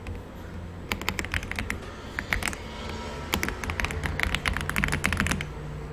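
Fingers tap rapidly on a computer keyboard while entering a chart title in Excel, irregular bursts of crisp clicks close by, with no one speaking.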